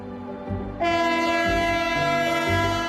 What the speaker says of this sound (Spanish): La mayoría de los trenes entre Galicia y la meseta la atraviesan a toda velocidad.